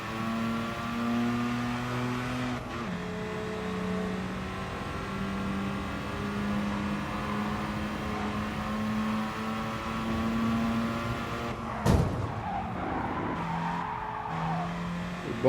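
Race car engines droning in Gran Turismo Sport, with steady tonal whine and shifting pitch, then a sharp impact as cars bump, followed by tire noise and continued engine roar.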